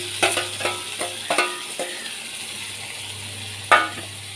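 A spoon stirring tomato and curry leaves as they fry in ginger garlic paste for egg curry, giving a series of close scraping clicks over a soft sizzle, then one last clack.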